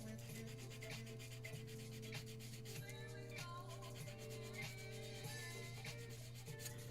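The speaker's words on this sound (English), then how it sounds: "I might as well use the heavier grit sandpaper." Heavy-grit sandpaper rubs against a hobby figure of Della Duck, a faint, steady rasping scrub repeated in short strokes over a continuous low hum.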